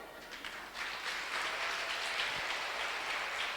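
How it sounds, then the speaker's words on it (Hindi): A church congregation clapping together in a steady, dense wash of applause that rises after the first second and holds evenly, heard from some distance in a reverberant hall. "पीछे वालों ने जम के ताली बजाई"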